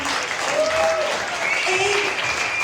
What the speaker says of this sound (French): ça mérite tout un applaudissement.